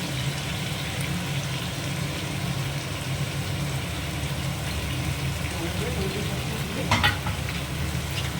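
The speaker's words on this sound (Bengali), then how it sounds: "টমেটো সসটা দিয়ে এবার একটু নেড়ে নেবো হালকা করে" Chili chicken frying in a pan as tomato sauce is stirred in, giving a steady close sizzle with scraping strokes and a brief clatter toward the end, with a voice talking underneath.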